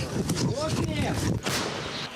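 An artillery cannon fires at a front-line position with a heavy boom and rolling blast, wind buffeting the microphone, with a brief voice amid the noise.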